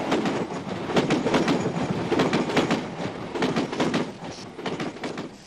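Train running along the seaside railway at Dawlish, a rhythmic clickety-clack of wheels over rail joints passing fairly close, loud and steady for several seconds with no voices.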